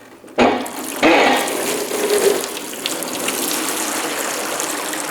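Antifreeze drains out of a small-block Chevy engine during a teardown, starting with a sudden gush and then a steady, loud splashing pour into a catch can that continues without a break, with no talking.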